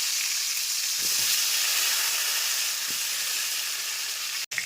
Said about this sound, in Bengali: এইবারে ডিমগুলোকে তুলে ওই তেলের মধ্যেই দিয়ে দেবো আলুগুলো খুব সুন্দর করে ভাজবো।